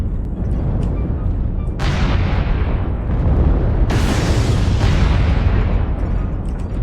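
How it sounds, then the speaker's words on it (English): Artillery strike explosions in MechWarrior Online land as a sequence of heavy, rumbling blasts, with several sharp impacts breaking through a continuous roar of loud, close detonations. "I just dropped an arty strike up there."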